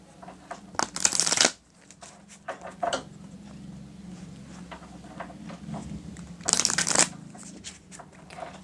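Tarot cards riffle-shuffled by hand in a quiet room: two loud, crisp bursts of rapid flicking, with softer card handling and taps in between.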